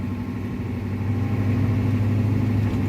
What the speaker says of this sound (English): Listen for the shifts, Battle.